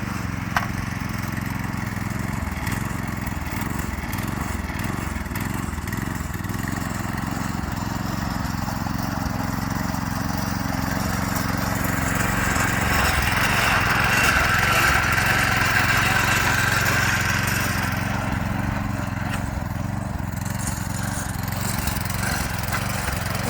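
A small garden tiller engine with reverse runs on a dirt garden row, a steady mid-pitched putter with some speed changes, close and continuous with no talk.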